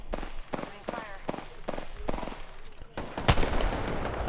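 Heavy sniper rifle shots from a Kraber in the shooter game Apex Legends ring out in a string of sharp, loud reports with a big blast near the end, over continuous gunfire-heavy game noise.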